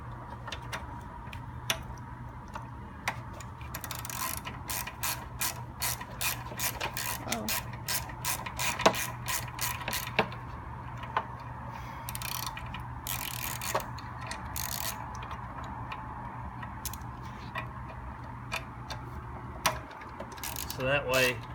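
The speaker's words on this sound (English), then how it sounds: "So next, you'll use a 3/8 socket, unbolt" A 3/8 socket ratchet unbolts a lawn mower carburetor from the engine block, giving a long run of rapid, close clicking pawl bursts over a steady low hum, with brief pauses between strokes.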